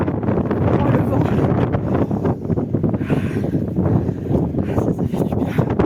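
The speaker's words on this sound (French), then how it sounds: "Oh, le vent." Wind blows hard outdoors on a cold day, buffeting the microphone in a loud, continuous roar that swells and eases without a break.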